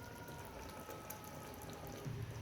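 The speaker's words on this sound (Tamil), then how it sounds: "தேவையான அளவு தண்ணி விட்டு" Water poured into salna masala in a pot for roadside-style salna, a soft, steady flowing wash heard close with a gurgle rising toward the end, with no talking.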